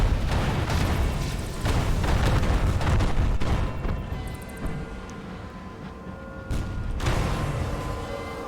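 Enemy fire hitting a ship in the video game Sunless Skies: dense, rumbling volleys of shots and booms that swell, ease off, then return with a fresh burst near the end, loud and continuous.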